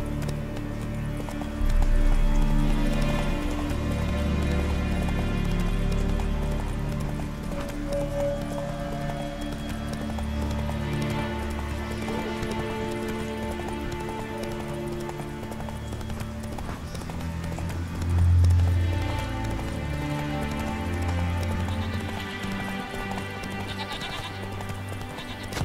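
A horse gallops in The Witcher 3, hooves pounding in a steady rapid clip-clop for a long stretch, with occasional whinnies and layered game music rising and falling around the rhythm.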